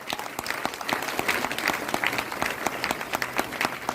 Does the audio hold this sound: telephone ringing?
no